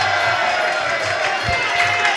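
Crowd at a WMC Victorian title kickboxing bout cheering and roaring steadily for about two seconds, a dense continuous wash of voices with a brief thump near the middle.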